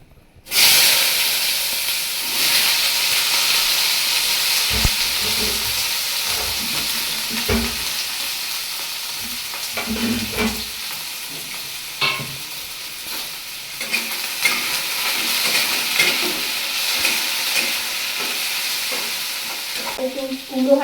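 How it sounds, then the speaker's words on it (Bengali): Pumpkin pieces fry in a pan in a home kitchen, a steady close hiss and sizzle running throughout, broken by scraping stirs and occasional clinks of the spatula against the pan. "একটু কুমড়ো ভাজছি"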